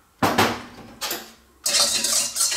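Yeast, salt and sugar are added to a bowl for a no-knead Cuban bread dough, heard as a few close clinks of a utensil on the bowl followed by a steady scraping rustle of mixing, with no talking.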